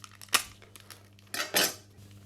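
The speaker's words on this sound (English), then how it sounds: "Mix it all together, and this will be our spice mix." Paprika being stirred into breadcrumbs in a bowl for a crispy chicken wrap spice mix, heard as two short bursts of scraping and clinking utensil-on-dish sounds, close and moderately loud, over a steady low hum.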